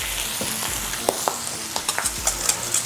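A whisk beats Dijon mustard with apple cider vinegar in a bowl for a Cajun dish, making rhythmic clicks and scrapes against the bowl over a soft background hiss, with no talking.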